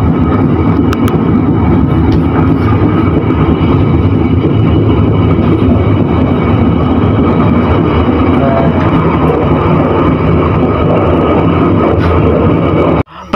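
The Pasundan Tambahan passenger train rumbles steadily and loudly from up close at Ngawi station, Indonesia, with constant rolling noise and faint clanks throughout.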